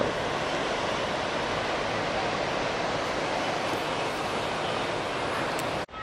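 The Muthirapuzha, a tributary of the Periyar, flows below a botanical garden in Munnar. It makes a continuous, even, broad rushing roar at a steady level with no talking, and cuts off abruptly just before the end.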